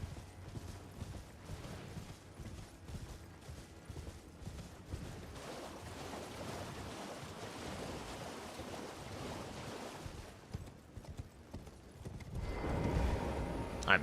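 A horse gallops in the video game Elden Ring: a steady, rapid clip-clop of hooves over a continuous wind-like rush, with a louder swell near the end and no talk.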